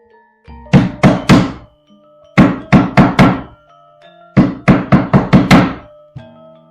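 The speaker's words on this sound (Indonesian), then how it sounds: "mengetuk sendiri pintu Cepuri itu jauh lebih keras dari ketukan pengikutnya" Heavy fists pound hard on a wooden door in three loud bursts of rapid, booming knocks, separated by short pauses, close up with no voices.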